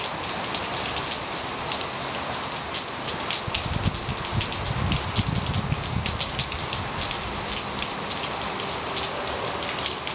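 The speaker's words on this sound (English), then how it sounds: "it's windy, it's rainy, and there might be thunder going on" Heavy rain pours down steadily during a California storm, a dense, constant hiss of drops drumming on surfaces with a brief low rumble in the middle, wind adding to the roar and no talking.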